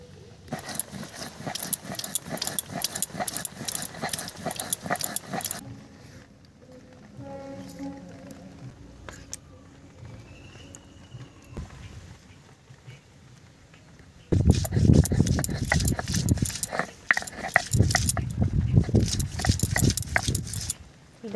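Garlic is ground into paste for a Bengali fish dish in two loud, busy bursts of rapid gritty grinding, split by a quieter middle stretch with light clatter and faint talk.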